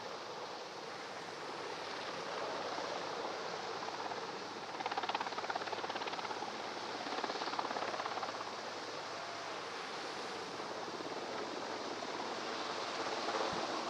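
Naval helicopter hovering low over the sea off a beach during a Navy Day operational demonstration, extracting marine commandos hanging beneath it; a steady broadband rotor and engine roar blends with surf and wind, swelling slightly midway, with no talk.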